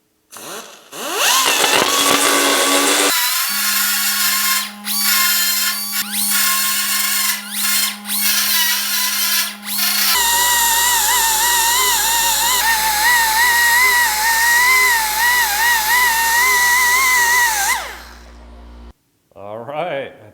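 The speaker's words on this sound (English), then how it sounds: "let's get to sanding." Power sander working on the body of a GTO restomod car door, a loud continuous grinding whir that shifts pitch partway through, running steadily for most of the stretch before stopping near the end.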